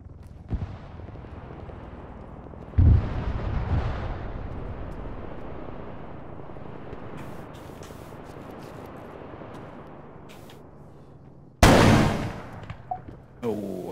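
Heavy .50 caliber gunfire and explosions in the Arma 3 video game: a sharp blast followed by a long rumbling decay, scattered distant shots, then a second loud crack with rolling echo, played alone without talk.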